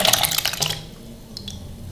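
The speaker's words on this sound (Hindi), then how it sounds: "इसके अंदर मैं पानी और डालूंगी ताकि ये अच्छी तरह पक जाए" Water pours into a saucepan while making chutney for crispy pithi ladoo, a steady splashing run that starts loud and then tapers off to a quieter trickle near the pan.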